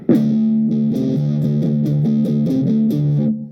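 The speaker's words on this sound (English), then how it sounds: "turn the treble all the way off, tone knob rolled off, mega distortion on" A 1971 Ibanez 2365 Jazzmaster-style electric guitar, treble and tone rolled off, plays a heavily distorted chugging riff of repeated low notes, thick and saturated, ringing out loud and close before cutting off.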